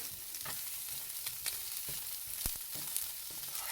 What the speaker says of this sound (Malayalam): ഇനി ഇതിലെ വെള്ളം കംപ്ലീറ്റ് വറ്റുന്നിടം വരെ ഇളക്കിക്കൊണ്ടേ ഇരിക്കുക